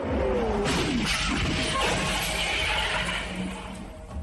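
Crash effect of a Lamborghini smashing, a loud shattering impact with breaking glass and debris that rings on steadily before easing off near the end.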